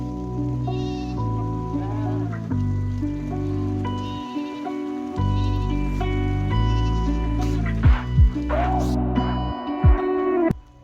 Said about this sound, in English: After a long night's sleep, the sheep are out for grazing